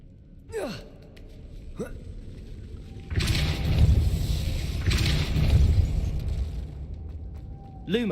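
A Depulso spell is cast in Hogwarts Legacy, loosing a broad rumbling magical blast that swells and holds for several seconds, framed by short whooshing casting sounds before and after.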